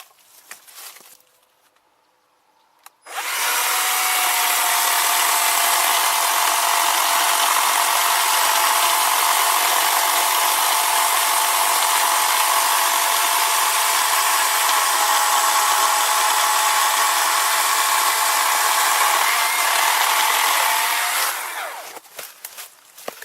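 A Worx chainsaw cuts through tree limbs with a loud, close, continuous motor whine and chain buzz that runs steadily for about eighteen seconds. It starts abruptly after a brief quiet moment and then winds down at the end.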